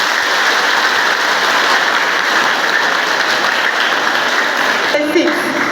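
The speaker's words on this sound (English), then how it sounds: "And now let's clap with the 5." A large audience claps full-handed with all five fingers during a motivational talk, a loud, dense, continuous roar of applause like heavy rain that runs nearly throughout, with a voice speaking briefly near the end.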